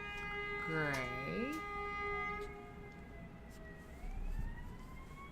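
A siren wails and sweeps in pitch nearby, then fades into a distant steady tone beneath soft background noise and a brief spoken word.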